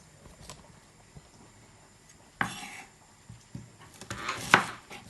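A knife chops white onions into smaller pieces on a board, with sparse quiet taps early on and then a few sharper, louder chopping knocks clustered toward the end.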